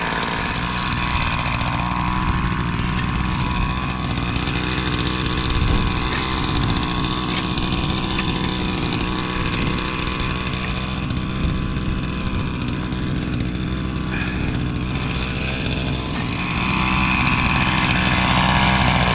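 Husqvarna 346 XP chainsaw after a piston and cylinder top-end rebuild, running loud and steady at high revs for the whole stretch, cutting with a continuous buzzing roar.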